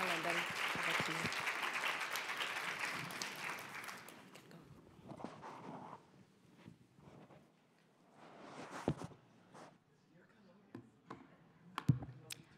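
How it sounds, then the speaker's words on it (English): An audience at a UN Statistical Commission side-event workshop gives the panel a round of applause, dense clapping for about four seconds that fades into scattered clicks, rustles and faint voices. "So maybe we can give a round of applause to our panel"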